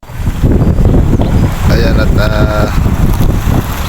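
Strong wind buffets the microphone at a seaside eatery in Tinggalan by the sea, a steady low rumble running throughout beneath someone speaking, with faint tonal clatter of the place in the background.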